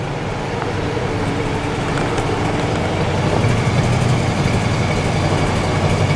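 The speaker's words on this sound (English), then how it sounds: "Exhaust note." Steady idle of a 1965 Buick Riviera Gran Sport V8, a deep continuous rumble from the exhaust, close and loud, with no revving and no voices.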